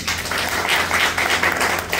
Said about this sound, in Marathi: एक बार जोरदार टाळ्या